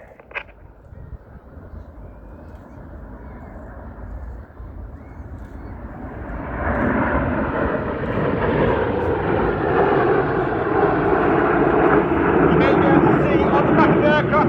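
A Red Arrows jet roars overhead during an air display at RAF Cosford, its noise swelling into a loud, sustained rumble with a faint voice at the start.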